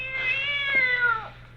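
A single drawn-out cat meow, close and clear, rising then falling over about a second and a half with no talk over it, set against a faint steady hum in a 1948 radio drama.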